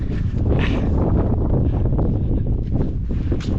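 Strong wind buffeting the microphone on open moorland at Bodmin Moor near Minions, a loud continuous roar with low rumbling gusts and no talk.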